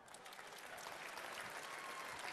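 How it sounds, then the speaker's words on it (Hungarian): Applause at a Hungarian music awards gala, a dense crowd clapping steadily and evenly throughout, fairly faint and distant with no voices over it. "Taps!"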